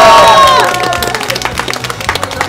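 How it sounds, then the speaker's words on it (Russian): Wedding guests break into applause and cheering after a loud sung or called-out note fades, with a dense patter of clapping from a crowd continuing to the end. "Под ваши аплодисменты!"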